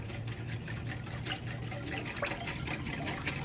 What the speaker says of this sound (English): I'm going to pour that in this bigger bowl, and we're going to mix all of this up.